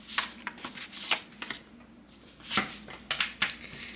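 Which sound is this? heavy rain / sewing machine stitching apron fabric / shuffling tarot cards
shuffling tarot cards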